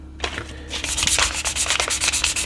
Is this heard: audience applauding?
no